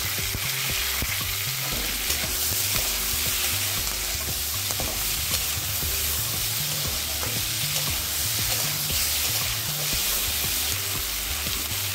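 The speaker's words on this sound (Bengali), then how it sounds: "এবার দিয়ে দিচ্ছি টমেটো আর লঙ্কা কুচিটা।" Tomato and chopped chili frying with onion and garlic for an eggplant dish, a dense continuous sizzle with faint scraping stirs underneath, close and loud throughout, no talk.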